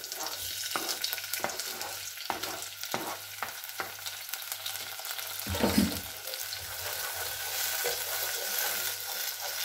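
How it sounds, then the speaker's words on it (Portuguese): Onion and garlic sautéing in a pan for cuttlefish feijoada, a soft continuous sizzle broken by several quick stirring scrapes early on and a heavier clunk near the middle, fairly quiet and close. "Bom, refogamos aqui a cebola."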